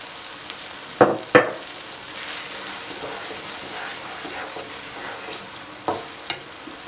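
Cooking oil sizzles steadily in a pan of split green moong dal for khichdi, a constant frying hiss broken by a few sharp clanks from stirring.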